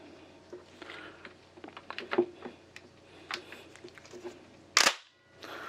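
A semi-automatic shotgun action is worked by hand to chamber the next shell: soft scattered clicks and handling noise, then one sharp, loud metallic clack near the end, close by with no talk.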